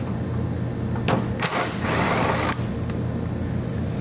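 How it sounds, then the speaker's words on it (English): A 7/32 socket on a power driver spins nuts off a 2016 Ford Edge panel, with a few short whirring bursts and one longer high-pitched run against a steady background hum. "I'll take those out using a 7/32 socket"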